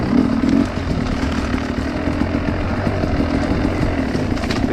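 A 2021 Sherco 300 SE carbureted two-stroke dirt bike engine runs after a restart, giving a steady close buzzing idle with a brief louder burst at the start and no talking.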